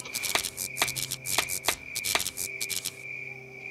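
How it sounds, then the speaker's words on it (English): A flashlight in the horror video game Malavision emits a repeated clicking, ticking pattern with a steady high electronic tone underneath, uneven bursts continuing for several seconds and then trailing off. "Have you guys ever had a flashlight make sounds like that?"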